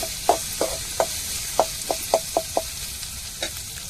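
Shallots, ginger and garlic sauté in a pan with a soft hiss under a series of sharp ladle stirs and scrapes, about eight quick strokes in a row and then another after a pause.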